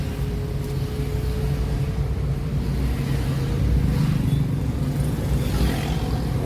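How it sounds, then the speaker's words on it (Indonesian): Busy morning road traffic in Palembang makes a dense, steady rumble of engines, with a faint rise of a passing vehicle partway through and no voices. "lalu lintas yang cukup menarik di pagi. Ini penuh padat"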